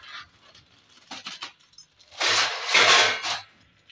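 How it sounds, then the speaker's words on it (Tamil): Red rice dry roasts in a pan under continuous stirring, giving intermittent scraping, rustling strokes that build into a longer, louder stretch of grainy scraping before fading. "ஸோ இந்த மாதிரி விடாமல் ஒரு ஐட்டமும் வறுக்கணும்."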